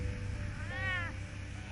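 A cat in Telltale's Batman game gives a single short, clear meow, heard alone over a faint background hum.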